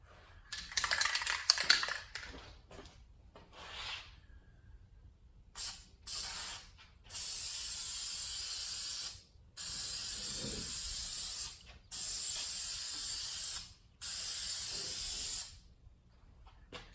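Spray paint laid onto a Dodge Challenger as another coat of stripes, a series of steady hissing bursts of about two seconds each with short pauses between, after some rustling and clicking handling noises at the start.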